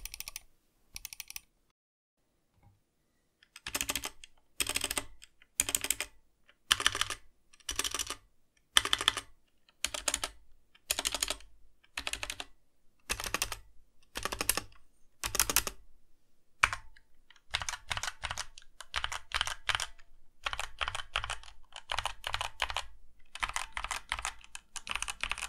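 A budget gaming keyboard, stock out of the box, is typed on in crisp, close clacks. Evenly spaced single keystrokes come first, then a faster flurry of ordinary typing.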